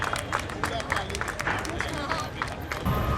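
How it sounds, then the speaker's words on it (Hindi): Audience clapping at the opening of a handloom and handicraft expo and trade fair at Patna Haat, dense and continuous throughout, mixed with crowd chatter and a voice over it. "जोरदार तालियां बजनी चाहिए।"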